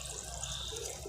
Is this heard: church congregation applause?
no